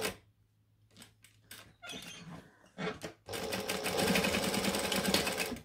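A sewing machine stitching bag handles to strap connectors, with a few short stop-start bursts of stitching followed by a longer, steady run of rapid needle clatter, close and clear.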